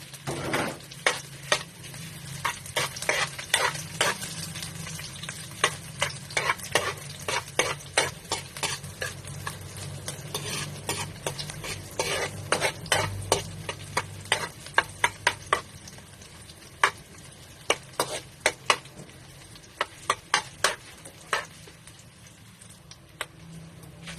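Onions sauté in a wok for pakbet, a soft background sizzle broken by frequent sharp clacks of a spatula scraping and stirring, close and without speech.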